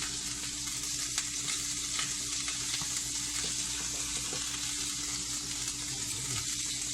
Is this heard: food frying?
yes